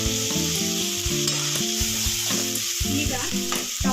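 Egg masala with turmeric and salt being stirred in a frying pan, a steady sizzle running throughout with the repeated scrape and clatter of the spoon against the pan, close and alone.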